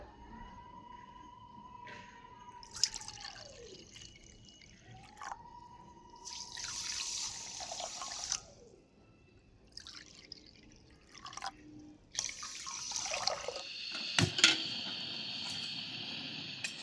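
Water pours in short runs into a bowl of sugar for syrup, splashing and trickling close by in separate bursts with pauses between them, and a few clinks of the bowl.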